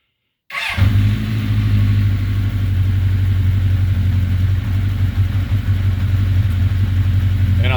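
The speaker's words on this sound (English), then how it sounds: "I'll just crank it up for a second" A 1981 Honda CB900C motorcycle engine catches quickly after a moment of silence, then settles into a loud, steady, close idle with a throbbing low rumble that holds without revving.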